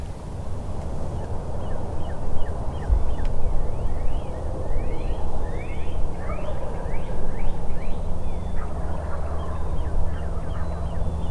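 Wild turkeys gobble in a morning woodland, a flock calling in repeated rattling bursts that overlap through the middle stretch, distant and moderately faint over steady outdoor rumble and wind.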